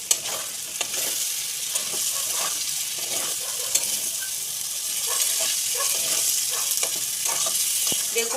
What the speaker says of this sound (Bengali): এবারে আমি টমেটো দিয়ে ভালো করে কষিয়ে নেব